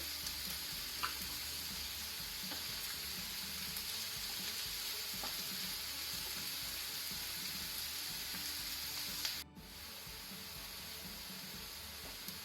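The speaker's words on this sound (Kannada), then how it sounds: "ಈಗ ನೋಡಿ ಆನಿಯನ್ಸ್ ಜಿಂಜರ್ ಗಾರ್ಲಿಕ್ ಬ್ರೌನ್ ಆಗಿದೆ, ಫ್ರೈ ಆಗಿದೆ." Onions, ginger and garlic fry with salt in a pan for prawn masala, a steady soft sizzle and crackle that runs throughout, with a faint clink or stir now and then and no talking.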